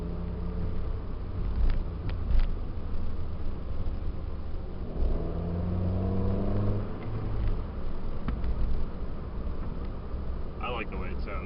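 A 2009 Toyota Yaris base fitted with a Tanabe Medallion exhaust drives along with a low, steady engine drone and a brief rise in revs, under wind noise and occasional talk inside the car.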